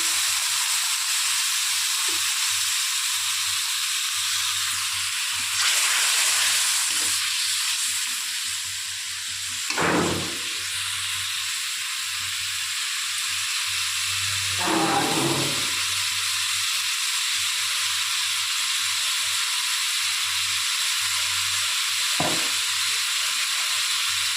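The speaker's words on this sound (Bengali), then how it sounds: "কষানোর জন্য মশলা দেওয়ার মধ্যে জল দিয়ে দেবো মধ্যে" Spices frying in oil in a pan for a Bengali chital fish curry hiss and sizzle steadily, with brief louder bursts of steam as water is poured in, close and continuous with no talk.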